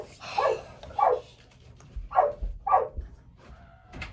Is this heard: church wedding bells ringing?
no